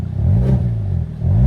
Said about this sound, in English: as you can hear from the from the revving of the engine, that the exhaust is giving us some rasp sounds